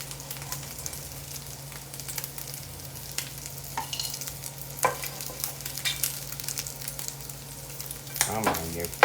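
Sausage pieces frying in a cast iron pan give a steady close sizzle, with scattered clinks and scrapes of a utensil stirring and lifting the meat, and a louder scrape near the end.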